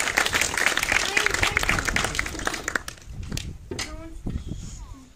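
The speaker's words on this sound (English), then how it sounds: "A big round of applause" Crowd applause at a cannon-firing demonstration at Elizabeth Castle, Jersey, steady clapping for a few seconds that thins out into scattered claps, with voices talking over the end.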